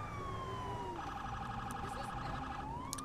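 A police car siren in Grand Theft Auto V wails continuously, its pitch sweeping down and then holding a rapid warbling pattern before rising again, loud over a dense rumble of traffic and engine noise.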